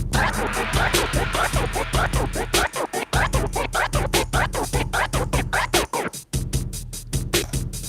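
Rapid turntable transform scratching, a repeated back-and-forth drag with two quick clicks on each pull back, chopped into a stuttering, rhythmic burst of cuts, loud and continuous.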